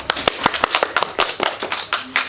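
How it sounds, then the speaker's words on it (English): A small audience at a primary school honours presentation claps close by in an uneven patter of distinct hand claps that thins out toward the end. "Let's give her a clap."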